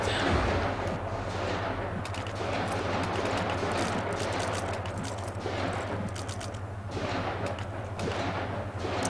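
Gunfire in a counter-strike style esports match, a steady run of shots and thuds from the game audio, loud and continuous with a low droning hum underneath throughout.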